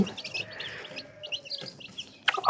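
Chickens at a farmyard in Kakheti make soft, scattered clucks and chirps, faint and close, with a sharper burst of clucking near the end and no talk.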